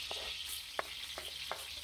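Garlic sautés for igado with a soft, steady sizzle, punctuated by four brief spatula clinks and stirs against the pan, faint and close.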